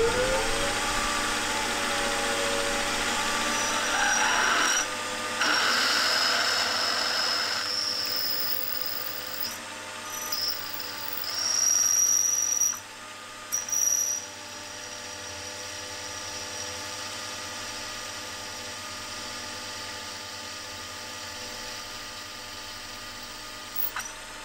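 A drill bores 21/64-inch holes, sized for M8 clearance, through a part for a CNC router gantry, giving a steady high-pitched motor whine that runs throughout with brief shifts in load, up close and without talk.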